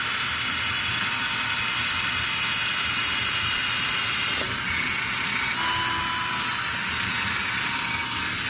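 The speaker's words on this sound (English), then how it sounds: "Those will be my drill points for where I'm about to drill these holes to put these bolts through." Power drill boring bolt holes for a freestanding construction upgrade, a steady loud whirring grind running continuously throughout with a brief shift in pitch partway through, no voices.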